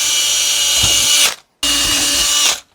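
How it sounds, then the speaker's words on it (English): A power drill with a pilot bit starts a hole in a door for a euro lock, two loud whining bursts separated by a brief pause, close and with no talking. "I always like to use a pilot bit to get the drill started"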